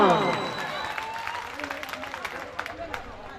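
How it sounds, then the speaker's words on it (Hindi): Audience applause at a 2019 farewell ceremony at Government Polytechnic Madhepura, a dense burst of clapping that starts loud with some music fading out, then thins into scattered, fading claps. "शानदार एक बार जोरदार तालियां।"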